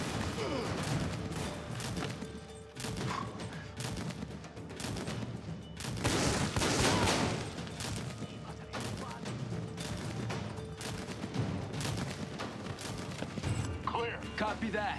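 Gunfire in the video game Army of Two: The Devil's Cartel, rapid repeated shots and crashing impacts throughout, with a louder burst midway, as voices speak underneath.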